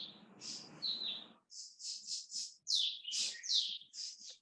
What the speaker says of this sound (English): Your birds are answering.